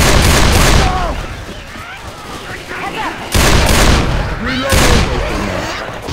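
Bursts of rapid gunfire in Left 4 Dead 2 cooperative gameplay, loud clustered volleys alternating with brief lulls, with shouted character voices calling out between shots.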